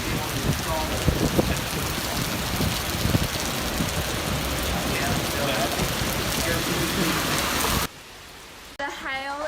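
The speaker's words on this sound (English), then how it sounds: "The hail is like baseballs here. It is ruining our house." Baseball-sized hailstones pound a house roof, punching holes, in a dense, loud, continuous drumming of impacts that cuts off abruptly near the end into a quieter stretch.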